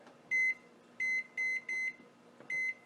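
Kitchen timer beeping in a home kitchen while a meat pasty bakes, a series of sharp electronic beeps, some short and some doubled, repeating at irregular intervals over a quiet room, with no talking.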